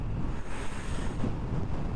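Heavy wind rushes over a rider on a Kymco KRV motorcycle in Taiwan under a darkening, drizzly sky, a loud continuous rumbling roar with slight gusting, no talk.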